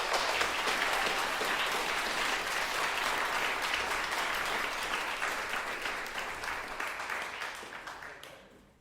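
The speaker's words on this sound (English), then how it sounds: "a big round of applause for everybody" Concert audience applauding a university percussion ensemble, sustained dense clapping from a large crowd that gradually thins into scattered claps and dies away near the end.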